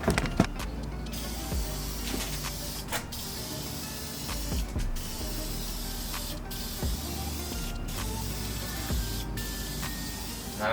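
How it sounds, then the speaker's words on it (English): Clear coat paint sprays from a spray gun onto an Acura TSX in steady hissing bursts, with short gaps between passes and a few clicks, heard fairly close without any talk. "Time to start spraying this clear."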